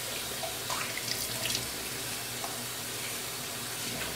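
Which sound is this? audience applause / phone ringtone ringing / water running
water running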